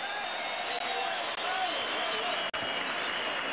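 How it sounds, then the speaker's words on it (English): Steady, dense applause from a boxing crowd after the Dave Hilton versus Dingaan Thobela fight, a continuous wash of clapping that holds an even level for several seconds. "ladies and gentlemen, a good round of applause for these 2 warriors."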